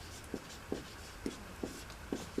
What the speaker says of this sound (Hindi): यहाँ इसका परिभाषा लिख लेते हैं